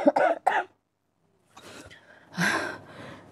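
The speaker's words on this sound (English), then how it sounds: "at home I don't cough so much" Two quick, sharp coughs, then a pause, followed by raspy throat-clearing and a breathy gasp. The sounds are quiet and close.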